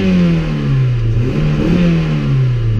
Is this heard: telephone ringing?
no